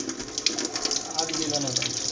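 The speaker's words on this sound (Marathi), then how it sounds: "दिसत आहे दुसऱ्या पाईपातून पाणी येत आहे." Water trickles and gushes steadily from the pipe of an old steam toy boat, close and continuous, with a soft splashy texture and a few small spurts.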